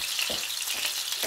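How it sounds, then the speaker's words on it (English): Cheeseburger patties fry in a pan at home, giving a steady close hiss and crackle of sizzling fat with no voices over it. "once I'm finished frying these burgers"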